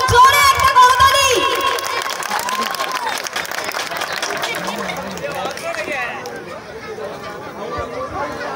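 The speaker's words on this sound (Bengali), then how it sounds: "মনীষ টি স্টল ঠাকুরিয়ার জন্য জোরে একটা করতালি।" A crowd at a football tournament prize ceremony claps, a broad wash of applause that fades after a few seconds while an announcer keeps speaking over a microphone.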